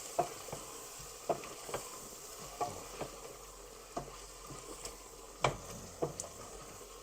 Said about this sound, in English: So we're just gonna mix everything.